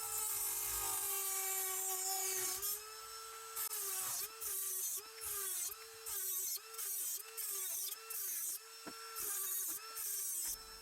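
A Dremel 8220 cordless rotary tool cuts through screws with a loud, close, high-pitched motor whine that holds steady at first, then dips and recovers again and again as the cutting wheel bites into the metal.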